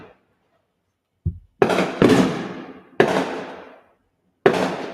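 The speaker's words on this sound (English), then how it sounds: "How they still doing fireworks at the 1 a.m.?" Fireworks burst over Boston at 1 a.m., a faint pop followed by four heavy booms, each trailing off in a long rumbling echo with gaps of silence between.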